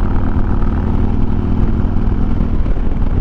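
A Harley-Davidson Street Glide Special with a Screamin' Eagle 120R engine and high-lift cam rumbles loudly and steadily close by, its lumpy V-twin pulse continuous throughout without any voices.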